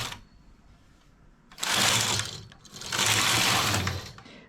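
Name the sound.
knitting machine knitting rows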